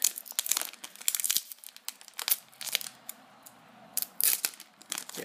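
A Japanese Pokémon XY Wild Blaze booster pack is torn open by hand, with close, sharp crinkling and ripping of foil wrapper in uneven bursts and no talking.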